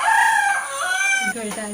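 A rooster crows loudly over a steady background hum, its drawn-out call rising and then falling off over a couple of seconds with no talk.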